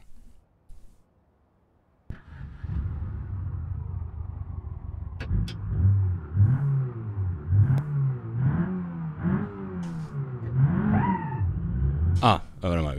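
An ETK car's engine revs and accelerates on a test track in the BeamNG driving game, a steady engine drone rising and falling through gear changes, with someone talking over it.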